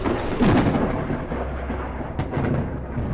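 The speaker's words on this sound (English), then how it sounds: "Storm is loud, so I'll be speaking a bit less." A thunderstorm in the video game Forever Skies rumbles steadily, with loud, dense rain-like wash and low thunder rolling throughout, swelling slightly at moments, with no voice over it.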